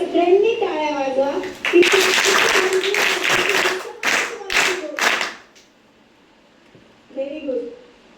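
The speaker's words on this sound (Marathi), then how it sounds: "तर खरं तर तुम्ही राठोड सरांसाठी सगळ्यांनी टाळ्या वाजवा" Students and adults clap together for a teacher at a rural school event, a dense burst of clapping with voices mixed in, fading to quiet before brief talk resumes.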